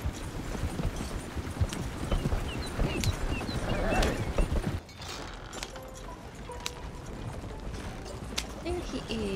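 Horse hooves clip-clop in the Red Dead Redemption 2 video game on a farm path near corn fields, a steady rhythmic trot under game sounds that softens midway, with voices talking over it.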